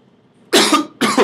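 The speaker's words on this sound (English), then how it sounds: "Cough." Two sharp coughs close to the microphone, the first longer and the second following after a brief pause, in an otherwise quiet setting.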